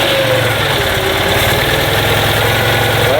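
A Citroën Méhari, started with the choke pulled, runs at a loud, steady idle close by, its low engine rumble throbbing evenly with no talk over it.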